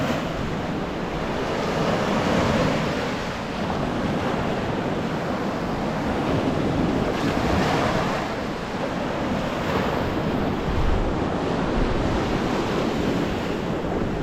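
Surf washing steadily onto the sandy shore of the Curonian Spit, a continuous broadband roar of breaking waves with gusts of wind buffeting the microphone, loud and close throughout with no voices.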